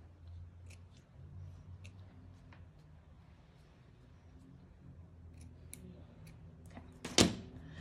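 Scissors trimming thread stitches on sewn fabric: a few faint, sparse snips across a quiet room, ending with one sharper, louder cut near the end.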